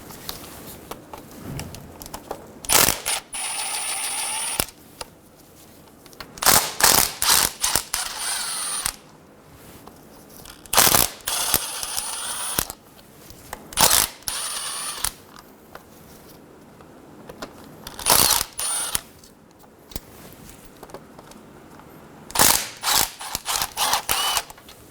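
A ratchet on a 10mm socket clicks in repeated bursts while removing oil pan bolts from a 2000-2007 Ford Focus, rapid close pawl rattles separated by short quiet pauses.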